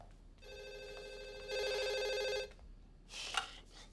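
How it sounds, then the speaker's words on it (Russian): An indoor telephone bell rings in a steady electronic trill lasting about two seconds, growing louder midway, followed by a brief clatter as the receiver is handled. "Телефон."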